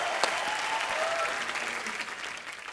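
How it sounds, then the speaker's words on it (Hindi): A television comedy studio audience gives dense, sustained applause, a steady wash of many hands that holds loud throughout and eases slightly toward the end. "आप लोग ताली बजाते रहिए"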